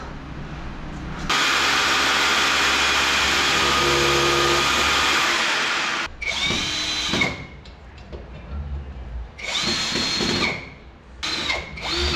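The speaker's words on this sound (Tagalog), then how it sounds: "Ang galing talaga ng rotary hammer ng Powerhouse. Napakalakas." A Powerhouse rotary hammer drilling a hole while a CCTV camera is being installed: a loud, continuous drilling roar close by for several seconds, then shorter bursts of drilling starting and stopping.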